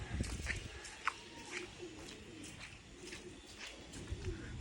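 Soft pigeon coos repeat at intervals over a low outdoor rumble and shuffling, with faint background activity and no clear speech.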